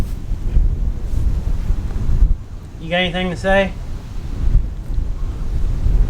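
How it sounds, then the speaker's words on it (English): Gusty wind on an outdoor farm buffets the microphone with a loud, low rumble that rises and falls, while someone briefly speaks partway through. "a little windy today"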